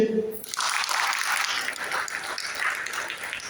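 A church congregation claps together, a sustained, moderately distant patter of many hands that begins abruptly after a brief voice and continues evenly to the end.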